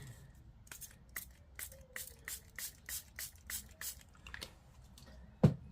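A spray bottle gives a rapid series of short hissing spritzes, close by, ending with a single soft thud.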